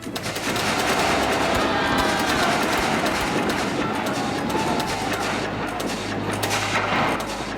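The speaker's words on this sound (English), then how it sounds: "the colonists opened fire" Musket volleys from colonists firing behind a rail fence at the Battle of Bunker Hill, a loud, dense crackle of overlapping shots sustained throughout with a low rumbling undertone.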